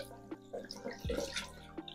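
Water runs and splashes in a bathroom sink while a face scrub is rinsed off, with irregular drips and splashes close by, no talking.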